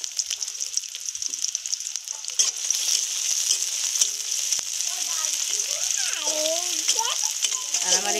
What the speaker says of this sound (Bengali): এখন আমার তেলটা গরম হয়ে গেলে আমি পেঁয়াজ কষি দিয়ে দিব। আমি পেঁয়াজ কুচিটা দিয়ে দিলাম।